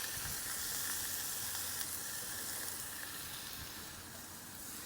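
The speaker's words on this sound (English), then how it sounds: "we're going to use our wok shovels to stir this" Chicken fried rice sizzles steadily in a wok on a Big Green Egg as wok shovels stir it, a continuous close hiss and crackle with no talking.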